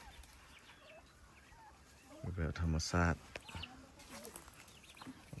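Chickens cluck and a rooster-like call bursts out at close range among turkeys on a farm, with quieter bird chatter around it and people talking nearby.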